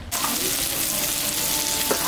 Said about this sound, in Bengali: এখন আমি একটু চচ্চড়ির মধ্যে আলু আর বেগুন দেবো, ওটা এখন আমি ভাজে নেব।